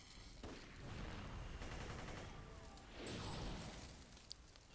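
Rapid gunfire from a City of Heroes mission fight against a boss, dense bursts of shots and impacts filling the scene, swelling louder in the middle and again near the end.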